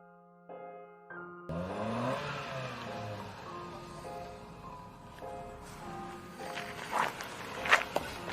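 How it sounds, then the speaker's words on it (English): A car engine revs up and holds a droning, shifting tone after a short quiet lead-in, fairly faint overall, with a few sharp knocks or steps toward the end. "let the engine of his car roar"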